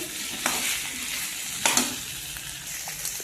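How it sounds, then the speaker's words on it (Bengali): Taro being sautéed with salt in a pan for a Bengali curry, giving a steady hiss of frying with a few sharp scraping stirs of a spatula, close and fairly loud, no voices. "লবণটা দিয়ে একটু কষিয়ে নিচ্ছি।"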